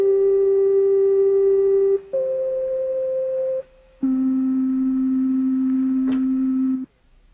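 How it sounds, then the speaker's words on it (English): Steady, pure, flute-like sine wave tones hold one pitch at a time, stepping through three different notes with brief gaps between them. "The sound of a sine wave is absolutely pure and flute-like."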